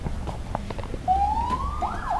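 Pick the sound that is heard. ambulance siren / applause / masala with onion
ambulance siren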